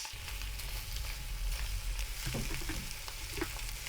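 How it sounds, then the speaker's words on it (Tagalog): Garlic and onion sautéing in a pan, a steady close hiss of frying with a few faint scraping stirs, and no voices. "igisahin natin ang bawang at sibuyas"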